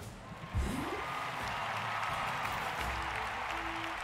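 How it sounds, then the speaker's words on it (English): Crowd applause from a video game potion-selling contest, a dense steady clapping wash that swells in after a brief low swoop and holds at full level throughout. "The crowd has assembled."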